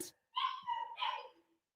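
Dogs barking indoors at close range, a couple of loud sharp barks with a whiny, yelping edge, separated by a short pause, with no voices over them.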